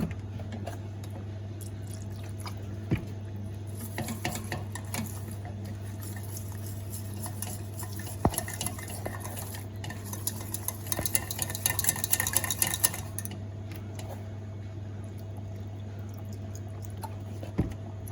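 Milk is stirred into a vegetable lasagne sauce in a pan, giving close, wet scraping and squishing strokes over a constant low hum. The stirring gets busier toward the middle, and no one speaks.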